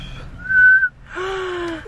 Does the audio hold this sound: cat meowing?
no